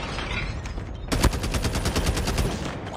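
Rapid automatic gunfire in the Call of Duty Mobile video game, a sudden loud burst of closely spaced shots that starts partway in and keeps rattling steadily to the end over game background noise.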